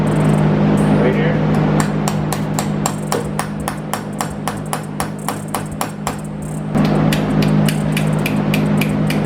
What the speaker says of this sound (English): So you get your punch, get your hammer